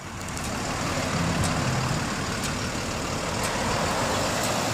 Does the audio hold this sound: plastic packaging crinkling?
no